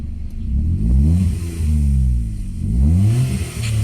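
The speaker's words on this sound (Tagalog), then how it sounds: "Ngayon, umaandar talaga. Taas ng palo ng kanyang RPM." A Hyundai i10 engine running after repair of its ECU, which had a busted capacitor, revved twice in rising-and-falling sweeps, loud and close, with a steady idle between the revs.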